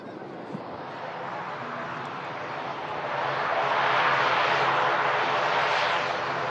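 Aer Lingus airliner engines roar steadily at a moderate distance, the broad rushing drone swelling louder midway and holding near its peak toward the end.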